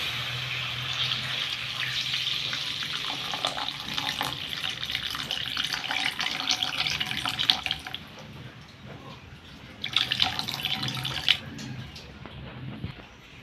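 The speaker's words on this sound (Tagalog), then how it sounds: "Lalagyan ko natin siya ng tubig." Water runs steadily from a tap into a cooking pot for pork adobo, a continuous splashing pour that shifts in tone as the vessel fills, with brief clattering near the end.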